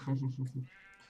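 Sheep in a video game bleat several times in quick succession, close and clear, followed by a softer tonal game sound.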